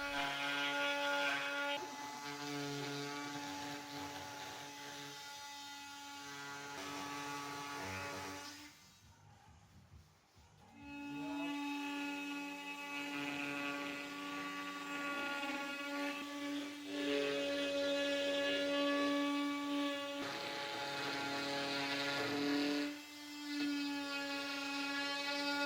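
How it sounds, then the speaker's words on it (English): Oscillating multi-tool cutting excess fiberglass from a boat rudder layup, a steady, whiny buzz running close and continuous with a brief dip midway. "I'm using the multi-tool again to trim the excess fiberglass, cutting along the original edge as a guide."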